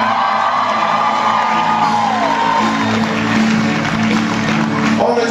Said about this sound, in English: Jedediah, give a round of applause.